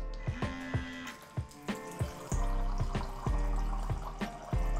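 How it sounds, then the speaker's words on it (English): Water pours from a Smart Table water dispenser into a glass, with a steady close trickle and a run of repeated clinks and drips, and the flow grows fuller toward the end, with no voices. "it pours perfectly"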